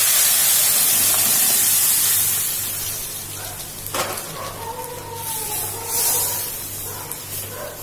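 Lentils (dal) go into turmeric-seasoned oil for a Bengali dal, a loud rushing sizzle that bursts up at once and then settles into a softer, steady hiss with a few faint clinks.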